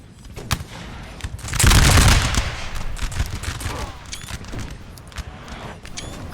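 Musket volley from enemy line infantry in a Napoleonic battle, heard as a loud rolling crackle of many shots merging into a dense roar, followed by scattered distant musket pops and battle ambience.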